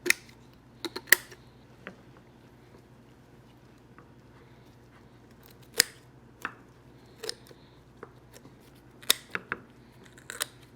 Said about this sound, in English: Get your pair of shears, good kitchen shears. We're gonna come through here and just cut it out